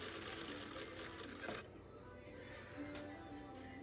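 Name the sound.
Juki LZ-2280B industrial sewing machine running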